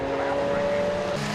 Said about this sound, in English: Seamus Jennings, Phil Andrews, the white Ferrari going through, prepared by FF Corsa.